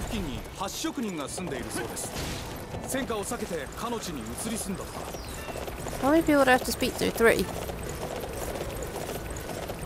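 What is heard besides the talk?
horse hooves galloping in Dynasty Warriors 9 video game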